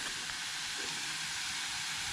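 Onions sautéing in a pan while cooking karuvadu thokku, a steady, even sizzle with a constant hiss and no talk.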